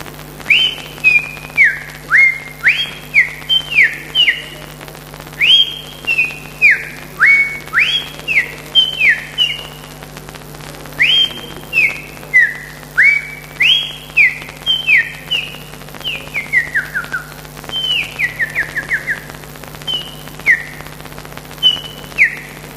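A person at a bird-whistling contest in Dominica whistles an imitation of the streaked saltator's call: loud, close, sliding whistled phrases repeated in quick bursts with short pauses, alone throughout.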